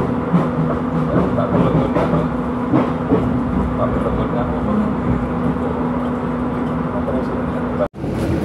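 Inside a Gajayana passenger train carriage, the steady rumble and rattle of wheels on rails runs continuously at close range, with a brief dropout near the end.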